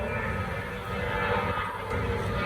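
An airplane taking off overhead near a shop doing a Toyota Tacoma chassis swap produces a steady, loud broadband engine roar with no break for the whole span.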